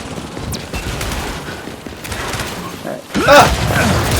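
Salvo rounds firing in Gears 5 Horde mode, a dense burst of rapid shots and booms that carries on beneath excited game chatter and players talking over each other.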